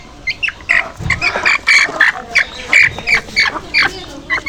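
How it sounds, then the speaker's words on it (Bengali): A sick chicken with a chest cold rasps and wheezes over and over, each rough breath about half a second apart and close by, with faint background noise between the calls. "দেখুন মারুফের মুরগিটা কেমন বুকের করে ঘর ঘর নিচ্ছে মানুষের মতো।"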